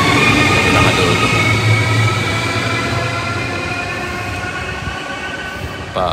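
A National Express train rumbles steadily through a German station at night, a loud continuous rolling drone with faint wheel noise that eases slightly toward the end, with no talk.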